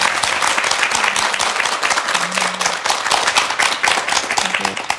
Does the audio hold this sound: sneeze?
no